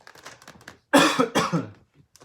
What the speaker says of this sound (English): I usually don't cough that much